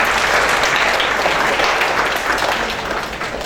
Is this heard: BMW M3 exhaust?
no